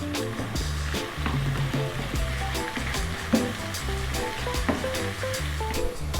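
Onions, chopped garlic and potatoes sizzle steadily in a pan, a constant soft crackling hiss close by with faint background tones underneath.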